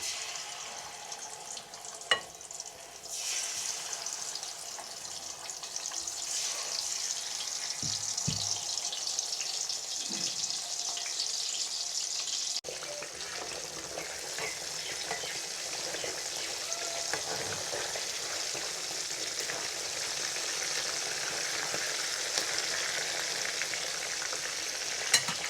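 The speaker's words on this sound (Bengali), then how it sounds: "আমি এখন কড়াইয়ে মাছগুলো দিয়ে দেবো।" Bata fish fried in a wok of hot oil with a little salt: a dense, continuous close sizzle holding steady throughout, with a few faint knocks and stirring sounds.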